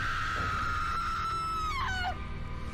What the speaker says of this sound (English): That's such an annoying scream.